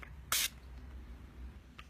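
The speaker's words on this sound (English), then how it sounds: "So I think maybe a bit of spray. Got the Urban Decay setting spray." Urban Decay makeup setting spray misted from its pump bottle: one short, close hissing spray burst, then a very faint second puff, over a quiet room.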